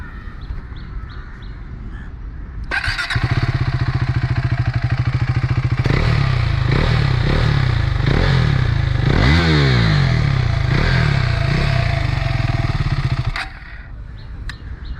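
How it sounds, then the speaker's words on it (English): A KTM 390 Adventure motorcycle with an aftermarket exhaust starts and idles with a deep, loud exhaust burble, then revs sharply several times before shutting off. "So that was the sound note of the exhaust"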